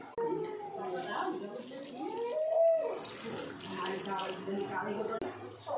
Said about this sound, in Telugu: ఇప్పుడు అందులో కొద్దిగా వాటర్ వేసుకోండి.